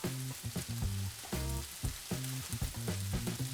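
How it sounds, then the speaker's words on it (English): Shredded paneer frying with peppers and onions while being mixed in a hot pan: a constant high, airy sizzle running beneath louder rhythmic background music. "we're going to cook and mix this all together for about 2 minutes"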